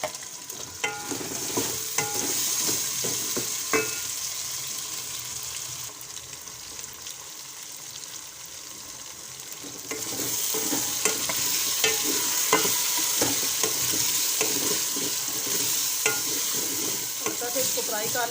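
Potatoes fry in a pan with steady sizzling, and a utensil repeatedly scrapes and stirs them. The sizzle gets louder partway through and stays continuous, with no voices.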